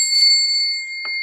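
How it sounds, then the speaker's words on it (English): A single ringing bell, struck just before the start and left to sustain in a steady, clear metallic tone with layered overtones, ending with a faint brief knock and no talking. "I'll ring the bell when it starts"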